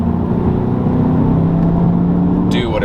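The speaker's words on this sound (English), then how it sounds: "listening to your RPMs climb and actually hearing the engine do what it does best, and that's accelerate" A 2020 Volkswagen Jetta GLI engine revs steadily under acceleration, a loud continuous drone with rising tone heard from inside the car, ending with a brief higher whine.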